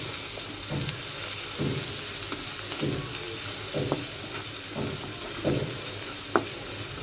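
Chopped onions fry in a pan for a Bengali dish of puishak greens with jackfruit seeds, giving a steady close sizzle broken by soft stirring scrapes roughly once a second and a sharp clink near the end.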